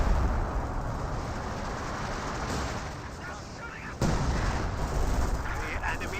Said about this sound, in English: that may have been a grenade there, but seemed a little bit too close to the Grenadiers